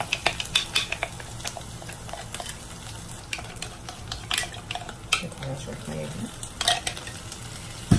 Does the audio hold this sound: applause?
no